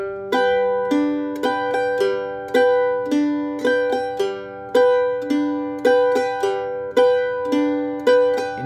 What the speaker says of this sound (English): Next, let's see if we can add the upstroke after the fourth beat instead with this variation.